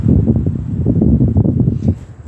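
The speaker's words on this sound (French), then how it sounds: "Il y a le vent qui se lève." Wind picks up outdoors, a steady low rushing and leafy rustle filling the background without a break.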